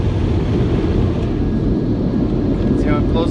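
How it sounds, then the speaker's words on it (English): Big blower dryers in an automatic car wash, heard from inside the car, make a loud continuous roar that fills the clip, with voices speaking over it. "Here comes the big dryers."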